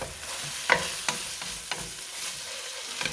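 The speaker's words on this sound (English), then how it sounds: "Give this a nice stir." Beef-A-Roni is stirred in a pot, with a spoon scraping and knocking a few times against the metal over a soft, steady sizzle.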